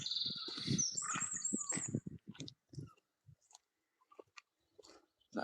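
Birds calling around a loch at sunrise, with a burst of chirps and rustling up close, then sparse, faint, brief calls scattered through near silence.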